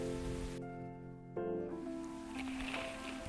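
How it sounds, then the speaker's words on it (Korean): Steady rain in the video game Coffee Talk hisses softly in the background beneath sustained musical tones, a continuous patter without breaks. "오늘 계속 비 오는 소리 나는 거야, 혹시?"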